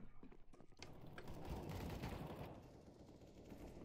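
Quiet bursts of rapid gunfire from the game CS:GO, starting with a few sharp cracks and then settling into a dense rattling barrage that gradually fades, with no voices.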